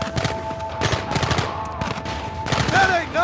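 Gunfire in the western game Red Dead Redemption, a rapid volley of overlapping rifle and pistol shots crackling throughout, loud and close, with shouting voices and a brief whistling tone near the end.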